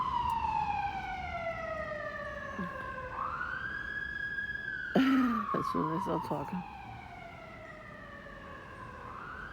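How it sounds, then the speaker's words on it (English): An ambulance siren wails outside in a slow rising and falling sweep, fairly distant and steady, while a person talks indoors over it. "You hear the ambulance, whatever it is."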